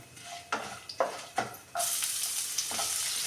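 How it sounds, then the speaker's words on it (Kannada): Chopped onion frying in oil in a pan: a few sharp stirring clacks, then a bright, loud sizzle swells up and holds steady to the end. "ನೋಡಿ ಈರುಳ್ಳಿ ಚೆನ್ನಾಗಿದ್ರಲ್ಲಿ ಫ್ರೈ ಆಗಲಿ"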